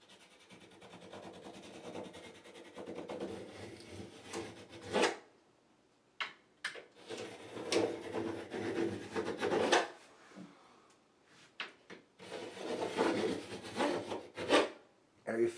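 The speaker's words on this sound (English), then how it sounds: "Now Andy's cutting the perimeter" Drywall being cut around the perimeter of a wall panel, a close, steady rasping and scraping in three long bursts separated by short pauses and a few sharp knocks, with no talking.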